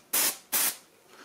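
Two short, loud hissing spray bursts of brake cleaner onto a Shimano BL-M4100 hydraulic bicycle brake, close by with a brief pause between them.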